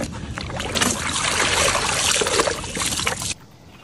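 Beef tripe being scrubbed and washed by hand in water with laundry detergent, producing continuous close sloshing, splashing and rubbing sounds that stop abruptly near the end.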